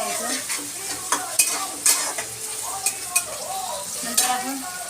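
Liver and tomato fry and sizzle in a pan while being stirred, with repeated scraping and light clinks of a spoon against the pan at an irregular rhythm, close and moderately loud.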